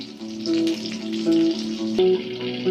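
Karli fish coated in rava shallow-fries in oil, giving a close, moderate sizzle with crackling spits and a few tonal clinks rising and falling over a couple of seconds.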